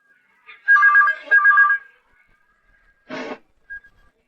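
A telephone rings after a number is dialled, two short warbling electronic tones in quick succession, fairly close, followed by a pause and a brief burst of another sound.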